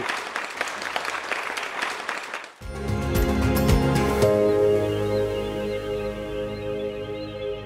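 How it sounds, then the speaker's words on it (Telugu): An audience at a farmers' agriculture session claps for a couple of seconds, then the applause gives way to loud, sustained music that continues to the end. "అందరూ గట్టిగా మీరు చప్పట్లు కొట్టండి"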